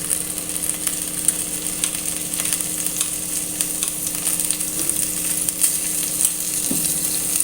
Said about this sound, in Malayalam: എന്നിട്ട് നല്ലോണം ഒന്ന് ആ തക്കാളി ഒന്ന് ഉടയണ വരെ ഒന്ന് നല്ലോണം വഴറ്റിയെടുക്കാം